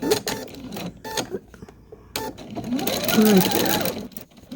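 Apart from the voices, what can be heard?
sewing machine stitching quilt fabric scraps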